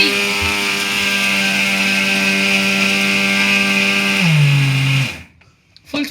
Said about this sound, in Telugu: ఫుల్ స్పీడ్లో పెట్టి మిక్సీ తిప్పుతున్నారు అమ్మమ్మ గారు.